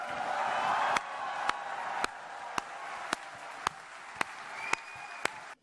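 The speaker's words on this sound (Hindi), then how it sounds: "स्वीडन के प्रधानमंत्री के लिए खड़े होकर के उनका सम्मान करें तालियों के साथ।" A standing ovation in honour of the Swedish prime minister at an event in Stockholm: a large crowd claps steadily and continuously, with a broad wash of applause and occasional sharper claps near the microphone.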